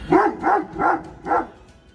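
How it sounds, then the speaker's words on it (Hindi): A dog in Gurgaon barks at another dog passing by on a cold evening, giving four loud, close, evenly spaced barks before falling quiet. "दूसरा डॉग जाते हुए, तो उस पर भौंक रहा है वो"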